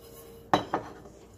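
A couple of clinking knocks sound from vegetables being tossed in a bowl with a utensil. The two close, bright hits come about a quarter second apart, then a quiet room.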